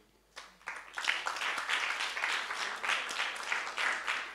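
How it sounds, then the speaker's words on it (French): Church congregation applauding, starting after a short quiet moment and swelling into sustained clapping from many hands, moderately loud and steady to the end. "vous pouvez vous applaudir"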